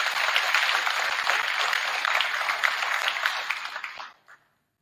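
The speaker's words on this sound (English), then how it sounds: "So let's give that class a round of applause." Audience applause at a school academic banquet honoring the graduating class of 2024, a dense steady clapping from a crowd that holds for about four seconds, then quickly fades out to silence.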